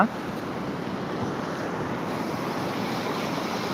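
A continuous wash of surf at Pudimadaka beach rushes steadily, mixed with wind buffeting the microphone, with no distinct breaks.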